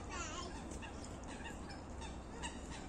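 Waterfowl at a park lake and deer park, honking and calling repeatedly in a dense, continuous chorus, moderately close with steady outdoor background noise.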